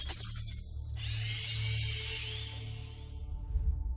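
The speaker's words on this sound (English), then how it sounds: "The glass, already chipped and worn out from the events of the last 24 hours, completely exploded." A chipped glass lamp shatters in one sharp, loud burst, and a bright hiss of scattering shards fades out over a couple of seconds above a low background rumble.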